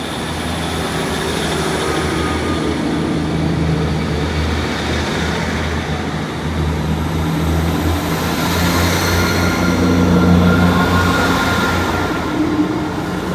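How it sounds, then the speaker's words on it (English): A train arrives at Paignton station with a loud, continuous rail rumble and hum that holds steady and swells slightly midway. No voices can be heard. "it won't be too far until another train comes in"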